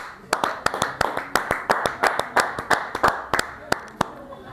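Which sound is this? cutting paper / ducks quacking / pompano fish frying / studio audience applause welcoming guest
studio audience applause welcoming guest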